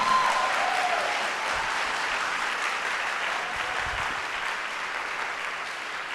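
A church congregation applauds continuously, a dense, even wash of many hands clapping that holds steady and fades slightly toward the end.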